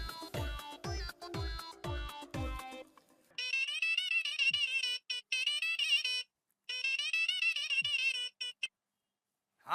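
A phone ringtone plays a repeating electronic melody in two bursts with short gaps, preceded by a few sharp plucked notes.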